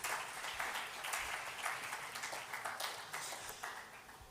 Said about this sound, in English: Can we all give our sponsors a big round of applause for all their support?